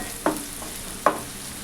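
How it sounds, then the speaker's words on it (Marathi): Finely chopped onion fries in a pan with a steady sizzle, broken twice by brief scraping stirs of a spoon, close and alone with no talk. "तो कांदा व्यवस्थित असा फ्राय करून घ्यायचा"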